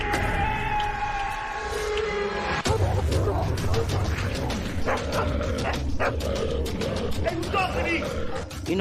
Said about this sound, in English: Where did these dogs come from? What the hell, these dogs? These dogs are trying to come up.